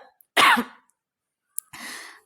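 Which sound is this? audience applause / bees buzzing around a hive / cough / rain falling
cough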